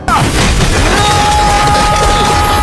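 A loud, dense blast of video game explosion noise across mountains that rumbles on continuously, heavy and booming from start to end.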